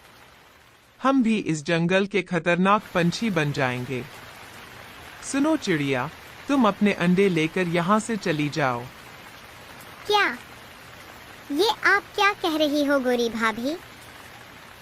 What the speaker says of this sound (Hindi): बारिश बहुत तेज है